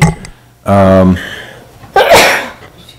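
A single sharp sneeze bursts out close to the listener during a town selectmen meeting, followed by a breathy exhale and a short voiced sound.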